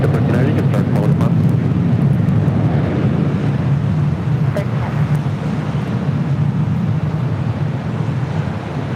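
An airliner takes off from runway 24 left at LAX, producing a loud, continuous broad roar that holds steady throughout, with voices speaking over it.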